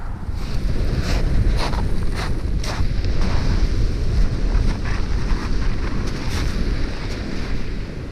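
Wind buffets the microphone on Shoreham Beach in the early morning, with a constant roar of surf and gusts beneath it and a few brief bursts of noise.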